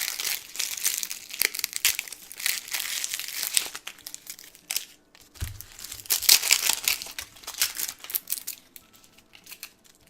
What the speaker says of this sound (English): red onions probably have the best sounding skin out of all of the onions